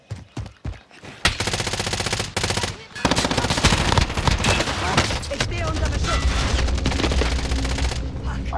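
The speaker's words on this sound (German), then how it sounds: "Ich stehe unter Beschuss." Sustained automatic gunfire in the game Warzone, rapid loud bursts close by with brief gaps, continuing densely over the whole stretch.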